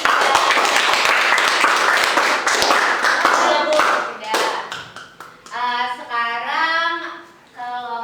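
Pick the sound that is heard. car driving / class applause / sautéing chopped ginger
class applause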